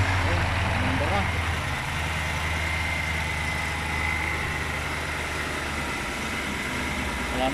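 A BMW V8 idles evenly after a misfire repair, a low, steady engine hum heard at moderate distance while people talk over it.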